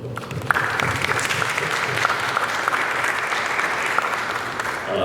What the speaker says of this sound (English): I need everybody to give themselves a round of applause